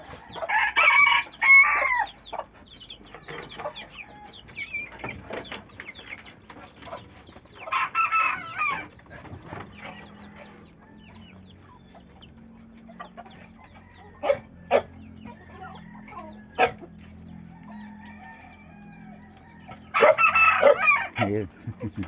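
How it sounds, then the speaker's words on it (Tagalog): Bulik gamecock roosters crow at intervals, one call early, another around the middle and a loud one near the end, with softer clucks and faint rustling between them. "Naririnig niyo tilaok na yan."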